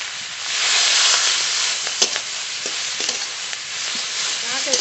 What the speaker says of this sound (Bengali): শাক একটু ঢেকে ঢেকে এবার ভেজে নেব।